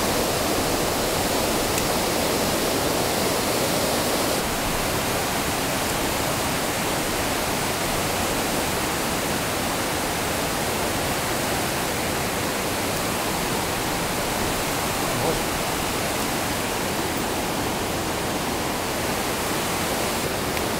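A mountain stream spills into a waterfall plunge pool at the uppermost reach of the Yukawa river in Okunikko, making a steady, dense rush of water that fills the whole stretch at an even, close level.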